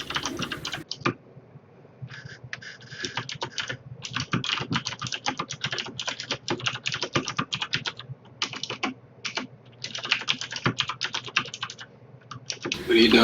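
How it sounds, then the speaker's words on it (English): Rapid typing on a computer keyboard during an esports match broadcast, with bursts of close clicking keystrokes and short pauses, while people talk intermittently over it. "I'm just typing to the chat"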